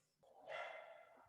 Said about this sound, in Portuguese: Vocês desculpem os cachorros aí